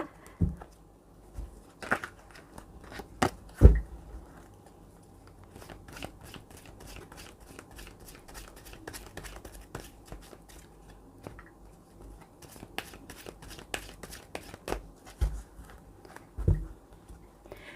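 Tarot cards are shuffled and handled up close, giving soft papery riffles, light taps and occasional sharp snaps scattered irregularly over a quiet background.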